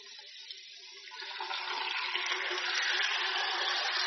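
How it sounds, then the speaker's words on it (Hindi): Chicken goes into a pan of light-brown frying onions and sets off a steady, close hiss and sizzle that swells over a few seconds and then holds, with no talk. "अब मैं इसमें चिकन शामिल करूंगी."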